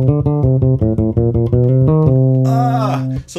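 An electric bass phrase, a quick run of clean plucked notes walking up before settling on a held tone, played alone and up close.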